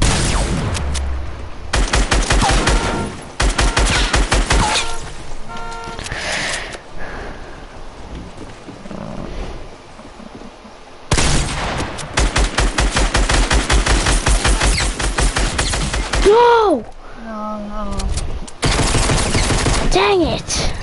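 Rapid bursts of gunfire from a Fortnite battle royale match, loud repeated volleys and single shots coming in clusters with brief pauses, with players talking over parts of it.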